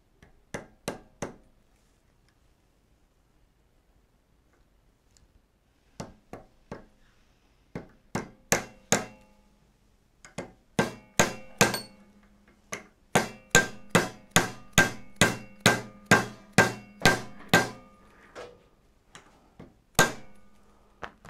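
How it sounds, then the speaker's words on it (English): Sharp, solid dead blow hammer blows land in irregular bursts during a hydraulic sprayer pump rebuild, then settle into a steady run of evenly spaced strikes, close and fairly loud. "But I'm going to do it with a dead blow hammer."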